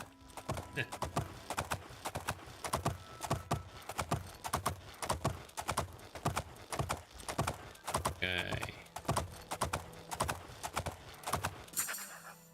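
Horse hooves clip-clop in a steady rhythm while riding up a mountain in the video game Oblivion. The clear, even hoofbeats continue throughout, with a brief whinny partway through.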